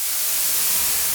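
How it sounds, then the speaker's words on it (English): A noise patch on a Moog Grandmother synthesizer with heavy reverb gives a brief, thin, bright hiss of white noise, steady and fairly loud with a washy tail. "I've created another noise patch"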